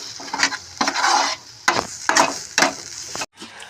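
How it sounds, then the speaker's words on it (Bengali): A gram flour (besan) mixture is stirred in a pan with a series of rhythmic scraping strokes, each a rough burst of utensil against metal, close and moderately loud, ending with a brief pause. "দিয়ে এটা ভালো করে আবার একটু নেড়ে চেড়ে"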